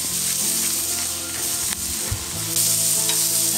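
Food sizzles and fries steadily on a tiny grill, a dense, continuous crackling hiss close by with no talk, the texture shifting slightly as pieces settle.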